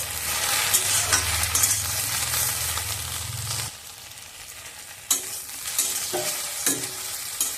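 Spices frying in a pot crackle and hiss as they are stirred, with a loud steady sizzle at first, then quieter frying broken by a few sharp scraping strokes.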